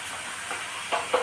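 Egg frying in hot oil in a home kitchen, a continuous loud hissing sizzle with a few brief crackling flare-ups toward the end, no talking.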